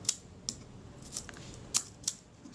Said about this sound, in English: The shutter does work at B.